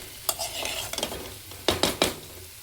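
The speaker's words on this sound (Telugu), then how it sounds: "పక్కనే కడాయిలో ఉప్పు కారం వేసుకొని చికెన్ అయితే పక్కన వేయిస్తున్నాను అన్నమాట" Chicken frying with salt and chili powder in a kadai, heard as a soft steady sizzle under a few sharp metal scrapes and clinks of stirring, close and moderately loud, with no talk.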